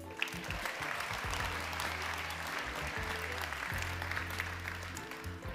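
Sustained audience applause fills a graduation ceremony for bachelor's graduates, a dense steady wash of many hands clapping throughout, with a low hum of music or room tone beneath and no clear talking.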